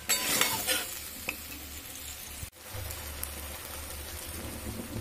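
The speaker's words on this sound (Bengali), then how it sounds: "এবার সিদ্ধ করা ডাল আর আলুটা আমি দিয়ে দিলাম।" Boiled dal and potato sautéing in a pan, a soft continuous sizzle with scraping stirs, a brief pause midway, then steady frying resumes.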